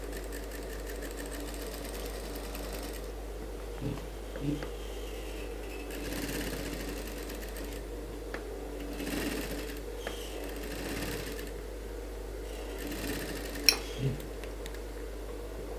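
An industrial sewing machine runs in short bursts while a suit is stitched, its faint mechanical hum and ticking steady under a quiet room, with occasional small knocks.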